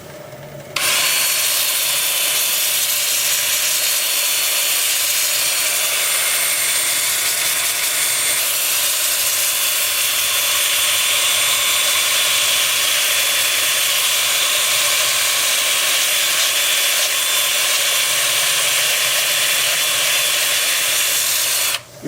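A wood lathe spins a buckeye bowl forward at about 325 rpm while a disc sander works its surface, giving a loud, steady broadband whooshing hiss that runs unbroken from start to finish with no talking.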